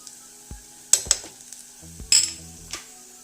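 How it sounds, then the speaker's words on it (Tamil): Soft oil sizzling as turkey berries fry in a pan, with scattered clinks and scrapes of a utensil stirring, quiet and close, no voices. "இந்த சுண்டைக்காய் போட்டுட்டு கொஞ்சம் நல்லா எண்ணெயிலே நல்லா ஃப்ரை பண்ணி விட்டுடலாம்."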